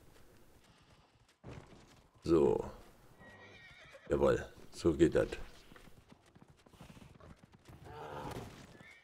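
A horse in the video game Dragon Age: Inquisition whinnies loudly several times, its calls spaced apart, while someone talks in between.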